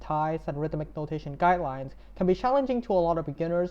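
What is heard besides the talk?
No everyday noise stands out behind the speech.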